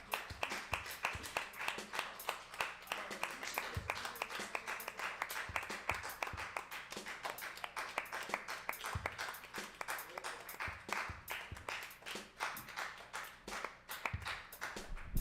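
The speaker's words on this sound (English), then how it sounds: "Thank you for that extended applause while I was walking up here" Sparse, steady applause from a small comedy club audience continues as a comedian walks up to the stage, with individual claps clearly distinct throughout.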